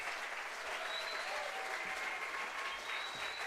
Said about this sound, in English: there's an applause track